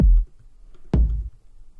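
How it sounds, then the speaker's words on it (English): A punchy electronic kick drum from a sample pack hits twice, each a deep booming thump with a short decay, loud and dry with nothing else around it. "we're gonna take this kick from Splice"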